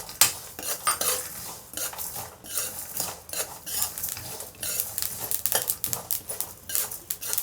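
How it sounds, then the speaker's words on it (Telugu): Sesame seeds roasting in a pan for stuffed eggplant curry crackle and pop, mixed with frequent metallic clinks and scraping of a utensil stirring against the pan. "నువ్వులు చిటిపట అంటున్నాయి కదా"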